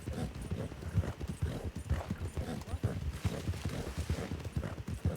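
Riderless horse's hooves clip-clopping in the Goldrush RP video game, a steady rhythmic run of close, thudding hoofbeats that lasts throughout, with talk heard over it.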